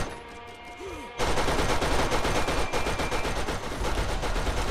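Turret gunfire in Borderlands erupts as a loud, continuous rapid-fire stream of shots that starts abruptly and keeps hammering steadily to the end.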